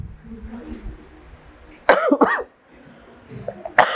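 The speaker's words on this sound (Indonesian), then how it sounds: "Mohon maaf ya Ibu sering batuk." Two sharp, close coughs from a woman break through quiet background murmur, one burst in the middle and another right at the end.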